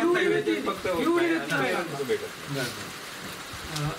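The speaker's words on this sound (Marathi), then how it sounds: "थोडासा पावसाचा आवाज येईल" Rain falls outside while a group shelters in a small shed. A continuous wash of rain sits under almost constant nearby talking.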